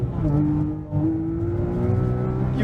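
A car on Nankang CR-S semislick tires accelerates hard at nearly full throttle in second gear, its engine note rising steadily and loud and close, with no tire squeal.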